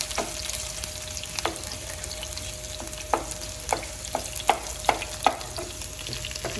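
Ginger and green chillies fry briefly in oil for beef nihari, a close steady sizzle punctuated by a string of sharp spoon taps and stirring knocks against the pan, with no talk.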